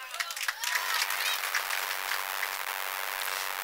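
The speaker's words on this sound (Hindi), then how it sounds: "आप लोग अपने लिए तालियां बजा लें।" A mushaira audience claps for itself at a poetry gathering, with steady crowd applause that swells after a brief quieter start and stays even and full.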